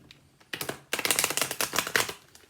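Rapid, dense riffling and soft slapping of Golden Tarot cards being shuffled, in two bursts close to the listener, with no talking.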